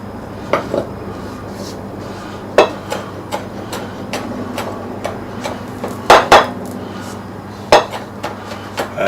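A knife cuts meat for carne asada into strips on a cutting board, a series of close, sharp knocks spaced unevenly, some in quick pairs, over a low background hum.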